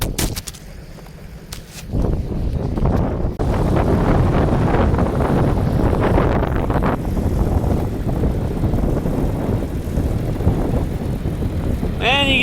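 High wind of around 50 miles an hour starts after a quieter moment and then blasts the microphone in a loud, steady roar with gusty buffeting, while a voice speaks briefly.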